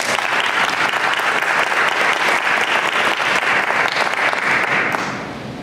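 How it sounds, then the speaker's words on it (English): A crowd applauds an essay contest winner at a Rotary Club award ceremony, a full, continuous wash of clapping that stays level throughout and tapers off in the final moment. "Can we give her another round of applause?"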